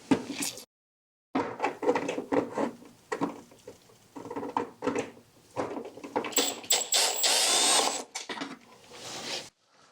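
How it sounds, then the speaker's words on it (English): Screws come out of the front end of a BMW R1300 GSA motorcycle, with a close, busy run of tool clatter, short clicks and a longer whirring stretch from a power driver, with no voices. "Need to remove this screw"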